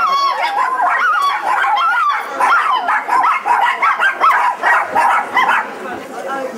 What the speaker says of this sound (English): they've never stopped barking since they've been here